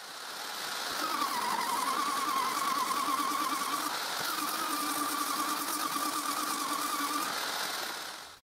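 A disc sander works the surfaces of wooden posts for a bridge build, giving a continuous close motor hum with a grinding, slightly wavering tone that steadies for several seconds and then cuts off abruptly at the end.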